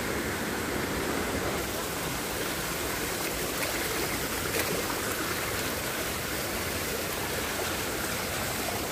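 A mountain stream flows close by in an even, continuous rushing wash of water that holds steady from start to finish, with no voices heard.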